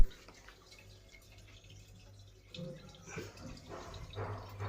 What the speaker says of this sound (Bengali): ডিরেক্ট ময়লা জল সব এদিক দিয়ে বেরিয়ে যাচ্ছে।